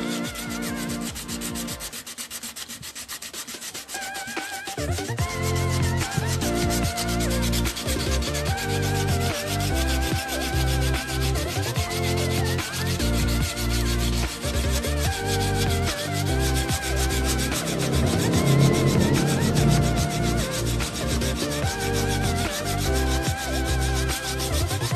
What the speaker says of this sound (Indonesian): Kita mulai dengan mengamplas amplas kasar.